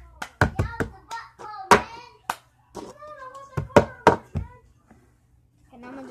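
Hands clap and tap a plastic cup in the cup song rhythm, with crisp, close, irregularly spaced hits broken by short pauses, while a voice counts and talks between the beats.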